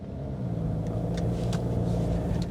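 A Jaguar XF's engine hums steadily while the car drives, a continuous low rumble with road noise heard from inside the cabin, and no voices.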